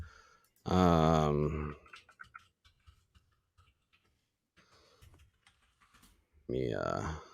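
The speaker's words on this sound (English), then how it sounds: "I know everybody loves to hear us typing and Googling" Light keyboard typing clicks away in scattered bursts between two stretches of a person speaking nearby.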